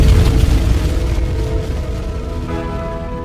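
A deep booming rumble of a hypernova explosion effect, loud and heavy at the start and then slowly fading into a long low roar with a faint ringing tone toward the end.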